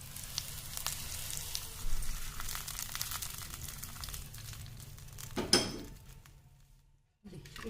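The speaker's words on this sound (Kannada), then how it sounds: "ಈಗ ಒಗ್ಗರಣೆನ ಅಪ್ಪೆ ಹುಳಿಗೆ ಹಾಕ್ಕೊಳ್ತಾ ಇದ್ದೀನಿ." Hot tempering is poured into appe huli, a soft, steady sizzle under light kitchen clatter, with a sharper burst near the end before it falls briefly silent.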